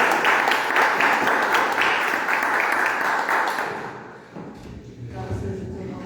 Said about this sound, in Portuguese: aplauda ao Senhor e receba a pastora